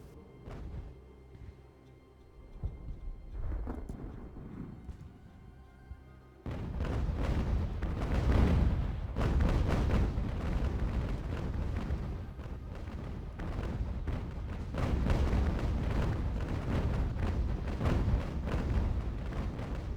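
Ships trade cannon fire in the naval battle game Ultimate Admiral: Age of Sail. After a quieter opening, a dense, continuous barrage of heavy booms and rumbling blasts erupts and rolls on loudly to the end.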